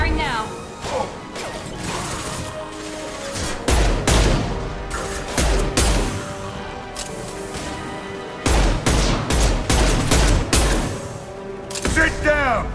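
Gunfire in the video game Mass Effect 2 cracks out in loud, repeated bursts and blasts with whooshes, mixed over a steady musical score and game voices.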